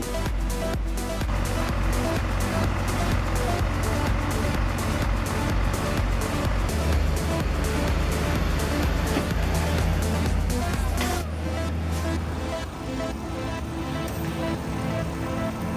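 Two heavy trucks loaded with timber crawl uphill through mud, making a loud, dense engine roar that holds steady throughout, with a rumbling, grinding texture and no clear voices.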